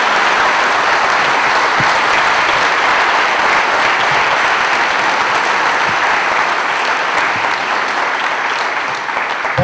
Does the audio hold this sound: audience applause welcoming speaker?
yes